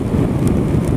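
Steady, dense rain noise with a low rumbling roar, continuous throughout, like downpour heard while riding outdoors on a road between Bayat and Sivrihisar, Turkey.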